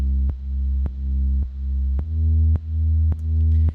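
A compressed bass synth patch, sidechained to a kick, holds a deep sustained tone that regularly ducks and swells back in a steady pumping rhythm, loud and alone.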